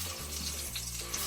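A beef medallion roast, seasoned with pepper, sears in a hot pan, giving a steady close sizzle with a faint low hum beneath, brief and without talk.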